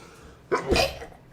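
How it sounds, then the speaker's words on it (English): A single sharp sneeze, close and loud, a quick burst of air after a brief intake. "there's the sneeze I was looking for."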